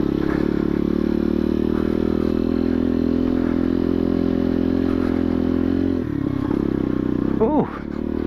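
2021 Bullit Hero motorcycle ridden off-road on rocky ground, a steady engine drone with a brief dip near the end and a short vocal exclamation over it.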